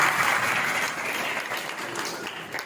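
Vigorous applause from a sizable crowd at a Guru Purnima religious gathering, loud at first and gradually tapering slightly in intensity over a few seconds.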